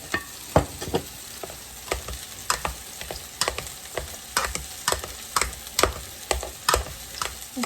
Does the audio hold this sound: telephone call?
no